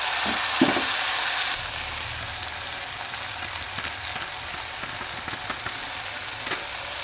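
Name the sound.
spice paste frying in pan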